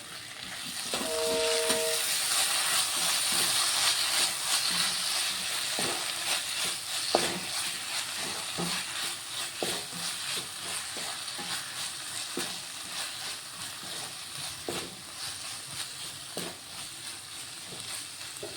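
Egg noodles frying with tomato sauce and chili sauce in a pan: a steady, moderate sizzle with scattered scraping stirs and utensil taps, alone without voices.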